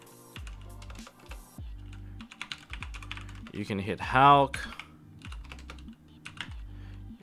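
A computer keyboard clatters in quick, steady bursts of keystrokes during a Yu-Gi-Oh strategy session, close and distinct, while a person speaks briefly in the middle.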